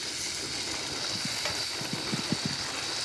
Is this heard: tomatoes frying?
yes